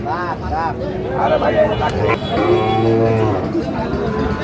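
A Sahiwal bull calf of about five or six months moos several times close by at a cattle market, with people talking in the background.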